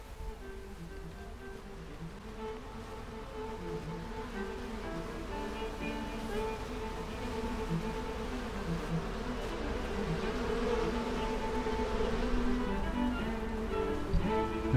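Honeybees buzz around a beehive entrance, a dense, steady hum of many insects close by that slowly grows louder, with no talk.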